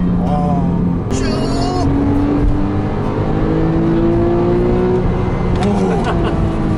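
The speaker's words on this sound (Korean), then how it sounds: "자연흡기 엔진은 이게 네. 한 열 번 정도 두두두두두두두 하고 가요" A Porsche Carrera with a naturally aspirated engine revs up and holds a steady drone, loud and close, with a short burst of rapid popping near the start. Voices exclaim briefly over it.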